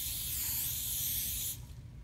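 A voice mimics an aerosol can spraying, producing a single sustained hiss of about one and a half seconds that cuts off sharply, close and fairly loud.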